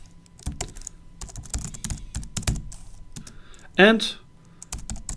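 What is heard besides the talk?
typing an email on a computer keyboard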